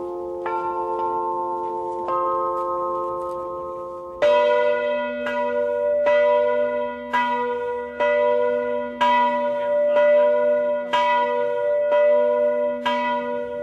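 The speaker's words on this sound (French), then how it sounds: "L'établissement vit au son des cloches." Large bronze bells ring at the Cornille-Havard bell foundry in Villedieu-les-Poêles, a few long ringing tones followed by a steady sequence of about ten loud, evenly spaced strikes with lingering hum, no voices.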